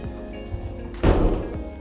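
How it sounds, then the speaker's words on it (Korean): An apartment's entrance door opens with a single dull thunk about midway, over a low room hum, with no voices around it. "문을 열고 들어왔을 때"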